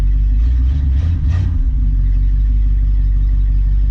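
A Ford Galaxie V8 engine, freshly repaired, runs smoothly with a steady deep rumbling idle, loud and close, with a brief swell of engine noise early on.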